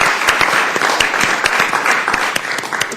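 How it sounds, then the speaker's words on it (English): Steady applause fills a formal committee hearing room in honor of Hugh Halpern, with dense overlapping claps and a few sharper near hand strikes throughout. "I think we should give Hugh a round of applause for his hard"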